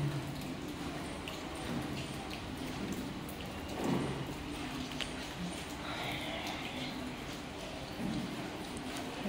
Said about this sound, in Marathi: इकडं बघू शकता पाऊस चालू आहे, बाहेर आभाळ पण आहे भरपूर.